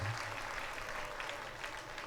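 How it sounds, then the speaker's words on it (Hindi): An audience at a Srimad Bhagwat katha gathering applauds warmly, a continuous wash of many clapping hands held at an even level from start to finish. "हृदय से तालियां बजा के, हरि बोल बोल के"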